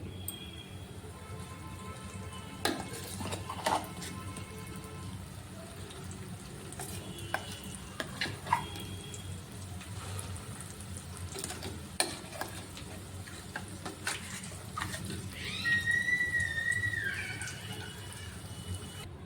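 Ground tomato pickle is stirred into a hot tempering in a pan, a soft continuous sizzle broken by scraping spoon strokes and clinks against the metal, close and fairly quiet.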